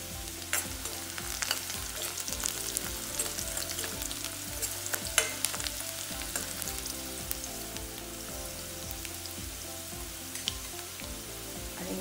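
Chopped onions with salt sautéing in a pan: a continuous close sizzle with soft, irregular stirring scrapes and small pops, no one talking.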